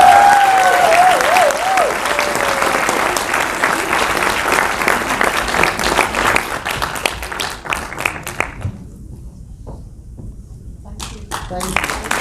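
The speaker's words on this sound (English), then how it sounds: "So please give Radhika Apte a big round of applause." An audience at a BAFTA event in London applauds a guest coming on stage, loud sustained clapping that thins into scattered claps and fades, with a voice briefly heard early on.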